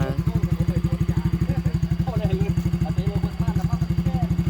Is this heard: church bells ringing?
no